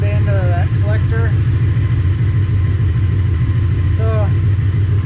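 A Ford Coyote V8 runs with no driveshaft fitted, a loud steady low rumble holding an even idle throughout, with a person talking briefly over it near the start and again near the end.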